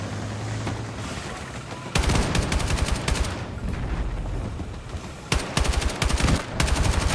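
Sniper and automatic gunfire in a multiplayer shooter game, with a steady roar of battlefield noise broken by bursts of sharp, rapid shots, loud and close, with no one talking.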